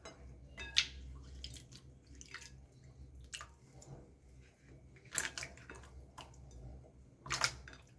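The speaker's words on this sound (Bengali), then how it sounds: "আগে সবজিগুলো একবার ধুয়ে নিই জলের মধ্যে" Vegetables being rinsed by hand in a bowl of water, with scattered drips and small splashes and a few louder sloshes, close by and fairly quiet, no talking.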